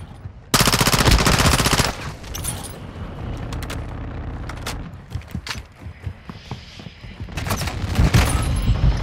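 Automatic gunfire in the video game Modern Warfare 2, a loud, rapid burst at the start followed by scattered shots and further firing, all close and dense throughout.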